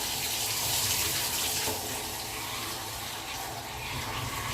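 Steady rushing of tap water pouring into a bathtub, a continuous broadband splash with no pauses, fairly close.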